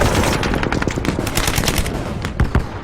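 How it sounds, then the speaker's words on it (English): Rapid bursts of gunfire and mortar fire rattle continuously in a Vietnam War firefight, loud and close, with dense overlapping shots and a sharper crack near the end. "Suddenly, mortars and gunfire are flying in from everywhere."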